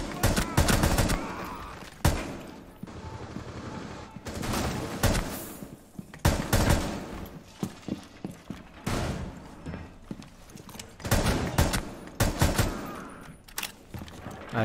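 Rapid gunfire during aim practice in Rainbow Six Siege, with dense bursts of loud sharp shots and automatic volleys that keep stopping and restarting, continuing through the whole stretch.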